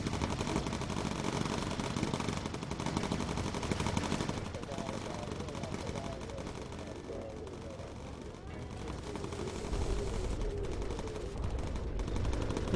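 Bomber gunners in Bomber Crew keep up dense machine gun fire as a continuous rattling barrage under engine drone, with a voice talking over parts of it.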